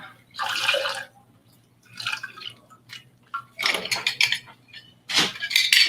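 An elbow juicer squeezes fruit in short bursts, each a wet squirt and drip of juice, spaced out with quiet gaps and light clinks of bar tools, close and fairly loud.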